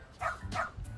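A dog barks twice in the video game Lost Judgment, two short, fairly close barks in quick succession over a low background hum, with no talking.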